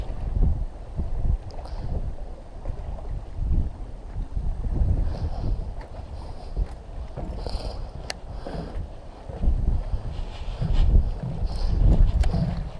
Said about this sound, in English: Just need a break from that wind